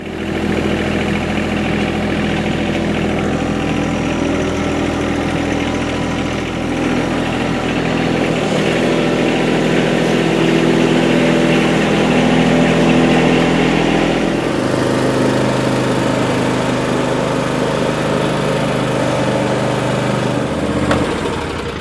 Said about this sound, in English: I'm going to start moving the tractors and some of the other stuff back in the shed where it goes